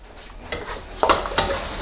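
Shrimp stir-frying in a hot pan for pad thai wrapped in egg, with a steady sizzle and bursts of scraping and tossing from a spatula, close and fairly loud, no voices.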